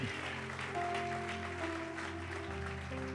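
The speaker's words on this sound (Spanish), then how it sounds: "Dale un aplauso a Dios." Congregation applauding during a Spanish-language church sermon, a sustained wash of clapping beneath sustained tones and a low hum, fairly faint and even throughout.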